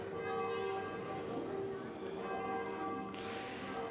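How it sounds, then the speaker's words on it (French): Church bells ring at noon in Sarlat-la-Canéda, their sustained, overlapping tones heard at a moderate distance through outdoor ambience. "On entend les cloches, il est midi."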